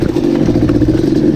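A Yamaha Banshee 350 ATV's two-stroke engine runs close by in a steady, buzzing drone with a slight rattling clatter, holding an even pitch throughout.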